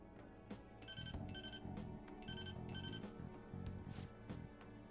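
A phone ringtone rings in a video game, with repeated bright electronic ring bursts in a regular pattern over a steady low backing of game music.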